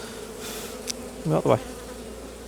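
Honey bees buzz in an open hive during a split, a steady close drone with a brief spoken phrase over it.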